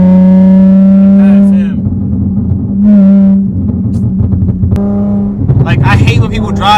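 A tuned car accelerates hard on the road, its loud, close engine drone rising and falling in pitch as it pulls through several gear changes.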